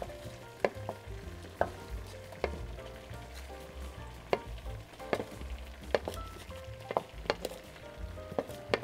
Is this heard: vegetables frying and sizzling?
yes